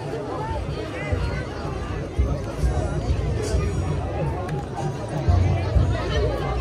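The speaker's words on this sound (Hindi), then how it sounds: "इतनी भीड़ लगी हुई है।" Crowd hubbub at the Surajkund mela, a busy outdoor fair: a dense, steady babble of many voices close around, with footsteps and scattered louder shouts mixed in.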